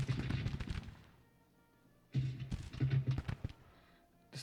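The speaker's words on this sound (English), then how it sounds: "Got a real bit of a firefight happening here" Musket and cannon fire of a Civil War battle in Grand Tactician: The Civil War, with bursts of rapid gunshots in clustered volleys and a short quiet gap between them, fairly faint.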